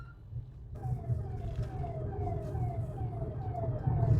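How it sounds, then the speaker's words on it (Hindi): Siren fitted on a private car, not police or ambulance, wails in repeated falling sweeps along the NH44 highway, steady and fairly loud over road rumble. "ना पुलिस की गाड़ी है ना एम्बुलेंस है, सायरन बजा के घूम रहा है।"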